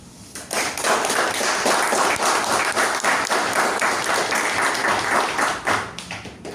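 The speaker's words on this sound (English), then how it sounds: "let's start with a thunderous applause" A Toastmasters club meeting audience applauds with sustained, dense clapping that holds steady for several seconds before tapering slightly at the end.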